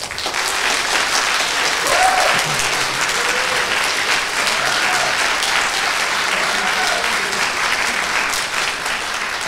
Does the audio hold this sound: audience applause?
yes